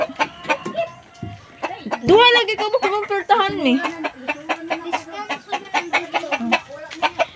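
Chicken clucks mixed with conversation, with a louder squawking burst partway through, nearby and fairly busy.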